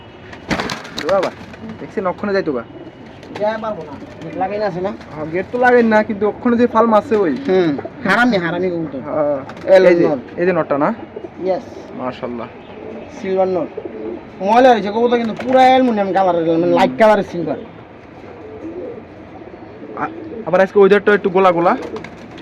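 High-flying pigeons coo repeatedly at close range at a pigeon sale, their calls mixed with near continuous talking.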